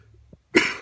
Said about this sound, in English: my cough is getting really bad